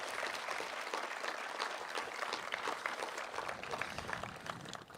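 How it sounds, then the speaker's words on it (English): Applause from the crowd in the stands at a school district graduation ceremony, a dense, distant-sounding wash of clapping that stays fairly even throughout with no voices on top. "please, one more time, give your family and friends in the stands a round of applause."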